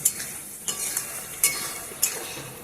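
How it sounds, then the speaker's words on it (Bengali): Spices and potatoes being fried and stirred in oil for a Bengali rohu fish curry, a soft continuous sizzle punctuated by three sharp scrapes of a spoon against the pan, close and fairly quiet with no talking. "এবারে ভালো করে আমি আলুর সাথে মশলাটাকে ভালো করে কষিয়ে নেব যতক্ষণ এর থেকে তেলটা ছেড়ে আসে"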